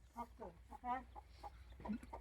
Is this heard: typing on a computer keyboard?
no